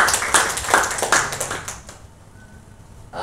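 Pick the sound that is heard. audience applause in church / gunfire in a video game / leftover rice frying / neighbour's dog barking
audience applause in church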